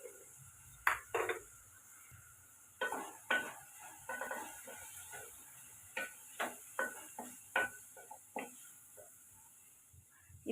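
A metal spoon stirs tomatoes with turmeric, garam masala and coriander powder in a pan for a kurma, giving a string of sharp clinks and scrapes against the pan over a faint sizzle, close up with no talking.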